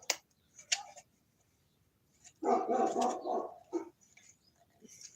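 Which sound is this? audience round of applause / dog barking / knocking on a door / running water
dog barking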